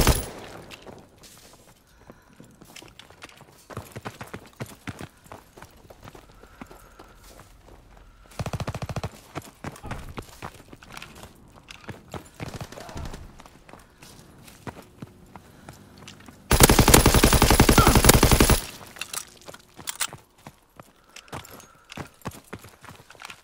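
Machine gun fire from a fighter plane's strafing run in the Call of Duty WWII video game, heard as scattered crackling shots through the battle and two loud sustained bursts of roaring fire.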